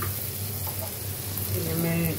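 Marinated country chicken sizzles and fries steadily in a pan as it is added to cooked onion, garlic and spices, with a soft voice speaking over the crackle.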